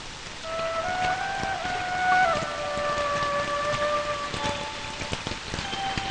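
Steady rain falls on someone lying out in the open, a dense continuous patter of drops spread evenly throughout, with a thin sustained tonal hum drifting above it and no voices.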